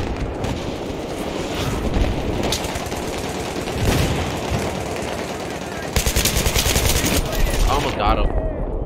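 FAMAS assault rifle firing in Battlefield 3 multiplayer, rapid automatic bursts rattling loud and close over dense battlefield din, with a sharper, crisper burst toward the end.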